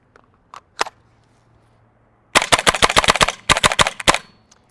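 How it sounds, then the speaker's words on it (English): A GHK G5 gas blowback airsoft rifle fires in semi-auto: a couple of isolated sharp cracks, then a fast string of about a dozen snappy shots in two quick bursts, close and loud. "If you feather that trigger, you can get off a couple rounds pretty quickly."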